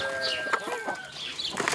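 A hen clucks in a children's farmyard story, several short, close clucking calls in an uneven rhythm, fairly loud and alone.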